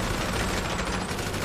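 Continuous rapid gunfire echoes at an underground bunker shooting range in GTA Online, a loud, dense, unbroken rattle with no pauses.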